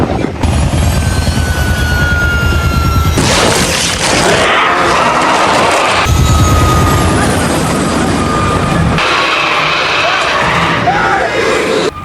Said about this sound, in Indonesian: Pada akhirnya, helikopter pun mengalami kecelakaan.